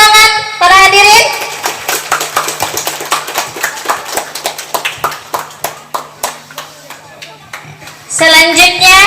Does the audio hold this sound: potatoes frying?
no